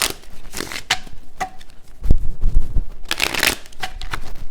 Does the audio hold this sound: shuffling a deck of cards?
yes